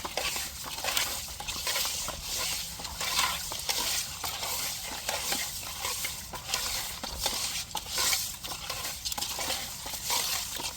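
A stingray being scrubbed hard with mango to strip off its slime gives a steady wet rasping and squelching, close and continuous, without any voices.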